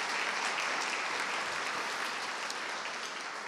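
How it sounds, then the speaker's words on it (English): Audience clapping after an author's evening talk, a dense sustained round of applause from a sizeable crowd in a hall, steady and fairly loud throughout. "Let's have one more round of applause"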